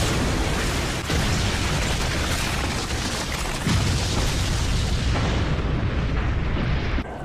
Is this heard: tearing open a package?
no